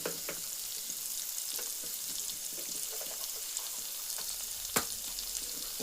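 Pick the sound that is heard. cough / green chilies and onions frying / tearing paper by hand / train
green chilies and onions frying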